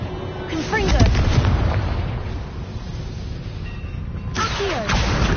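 A Confringo blasting spell in a PS4 game goes off as booming explosive bursts, one near the start and another near the end, with rumbling blast noise in between.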